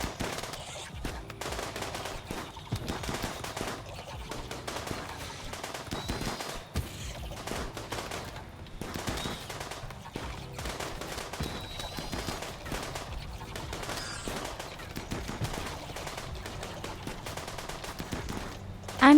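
Colonists shooting in the colony-survival game Rimworld, with rapid, repeated bursts of small-arms and machine-gun fire crackling steadily at moderate-to-faint volume over ongoing game sound.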